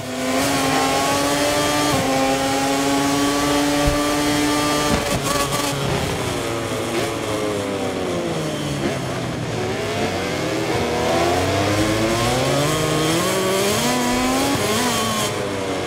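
Racing motorcycle engine in the MotoGP 24 game at Austin, loud and continuous, revving with rising and falling pitch through gear changes as the bike accelerates and brakes, with no voices over it.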